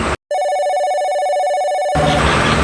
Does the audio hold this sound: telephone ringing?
yes